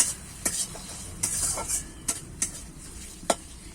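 Chopped tomato being stirred into a sizzling bhetki fish masala in a pan, with a handful of sharp utensil scrapes over a steady fry.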